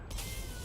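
A short synthesized cat meow plays from a creature card in the MTG Arena digital card game, a single brief, bright call over a dense background with no talking.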